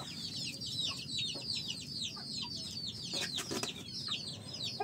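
Farm chickens cluck and call continuously in a busy, fairly close chorus of overlapping short notes, with no talking.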